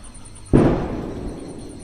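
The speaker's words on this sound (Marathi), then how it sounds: "फटाके पण फुटत आहेत" A single firecracker bangs sharply at a village Tulsi Vivah wedding in Konkan, its low boom fading slowly amid quiet background noise.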